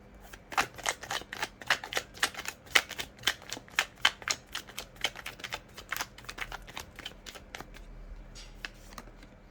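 Tarot cards shuffled by hand, a fast train of crisp riffling snaps and flutters, close and fairly loud, thinning out toward the end with no voice over it.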